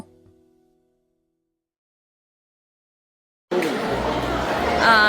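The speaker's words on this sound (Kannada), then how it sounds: "ಸೊ ಫುಲ್ ಕ್ರೌಡ್ ಇತ್ತಾಯ್ತಾ, ತುಂಬಾ ಜನರಿದ್ರು" Crowd chatter fills a busy Filipino food festival inside a Bahrain mall, a dense babble of many voices that cuts in abruptly after near silence and swells slightly louder toward the end.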